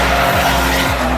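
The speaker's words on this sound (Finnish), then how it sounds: "moottori kyllä laulaa ihan kivasti" An AMG GT's engine runs steadily at a track test day, a continuous loud roar with low harmonic bands and a couple of falling pitch sweeps as revs change, with a tire-scrub hiss layered over it.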